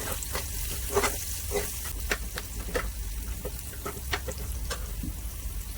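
Spices crackle and sizzle in hot oil for a home-cooked tadka with turmeric and salt, a steady frying hiss punctuated by sharp pops, fairly faint and close.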